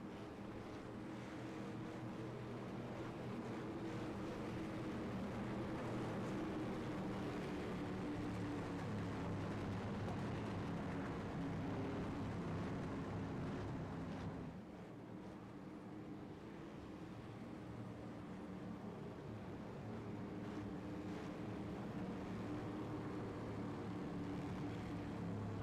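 Street stock race cars run on the track at Legacy Phoenix, their engines blending into a continuous heavy roar heard from a distance. The roar eases briefly about midway before holding steady again.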